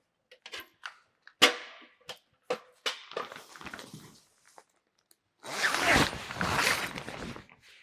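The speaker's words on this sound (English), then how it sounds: "This wall now needs to zip onto the other 2 walls." A zipper on the canvas rear wall of a Stockman Rover camper trailer is worked in short tugs and clicks, then pulled along in a long, loud rasping run, close and without talk.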